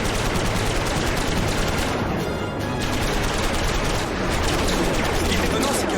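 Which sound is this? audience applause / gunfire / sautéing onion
gunfire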